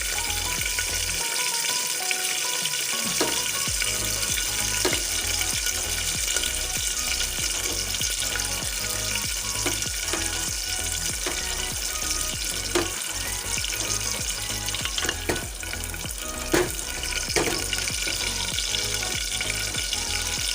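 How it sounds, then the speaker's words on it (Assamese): Bay leaves and raisins fry in hot ghee with a continuous loud sizzle and occasional stirring scrapes, close up, with no talk. "ঘিখিনি দিয়াৰ পিছত মই ইয়াত দি দিম তেজপাত কেইখিলা"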